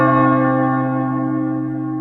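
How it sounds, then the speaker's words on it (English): A deep church bell sounds a single long toll as a funeral bell, ringing alone and loud with a slowly fading hum over two seconds. "Sound the funeral bell."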